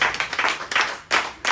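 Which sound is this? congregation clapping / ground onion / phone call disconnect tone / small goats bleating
congregation clapping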